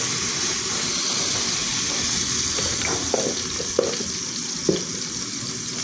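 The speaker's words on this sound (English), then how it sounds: "Then we are going to add in our blended mixtures of tomato, onion and garlic." A blended mixture of tomato, onion and garlic fries in hot oil for a goat meat dish, making a loud, continuous wet sizzle with a few small clinks near the end.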